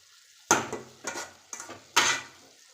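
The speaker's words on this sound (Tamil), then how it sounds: "இதை வந்து நம்ம மூடி போட்டு மூடி வச்சிடலாம்." Lid placed on a cooking pot of broad bean gravy, four close clattering metallic knocks spaced about half a second apart, moderately loud, each with a short rattle, in an otherwise quiet kitchen.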